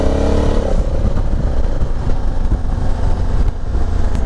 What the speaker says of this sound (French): Allez, on roule en Africa Twin.